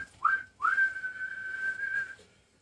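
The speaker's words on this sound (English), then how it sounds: "the ref blows his whistle" A referee's whistle at the close of a Gasbbuteo League table football Champions Cup final: a short, shrill blast quickly followed by a longer sustained one, clear and fairly close, with nothing else around it.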